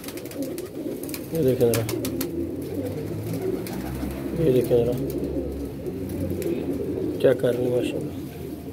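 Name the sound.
pigeons cooing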